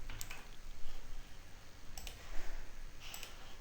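A few sharp mouse clicks while working on a computer, spaced a second or so apart, close and fairly faint over a low background hum.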